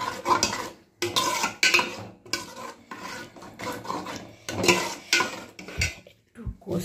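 A spoon stirs jaggery into a mustard, spinach and fenugreek greens mixture in a pan, giving repeated scraping, rubbing strokes in uneven bursts, close and fairly quiet.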